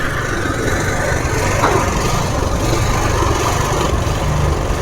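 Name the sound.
drilling machine engine running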